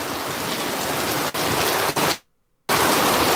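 Heavy rain pours in a dense, steady hiss. It cuts out briefly near the end, then returns at full strength, with no voices over it.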